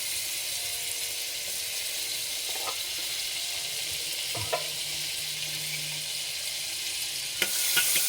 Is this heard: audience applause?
no